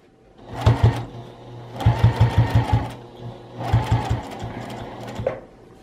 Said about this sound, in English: lift up your presser foot with the needle down. Turn and keep going.